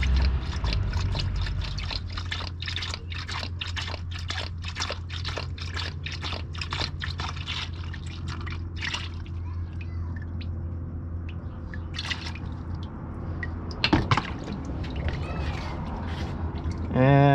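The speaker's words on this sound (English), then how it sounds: "Let's let a little bit more drip out and then we'll open it up." Transmission fluid drips steadily from a 2015 Honda Accord during a drain for a transmission flush and filter replacement, a run of close, irregular wet ticks over a low hum, with a few louder clunks near the end.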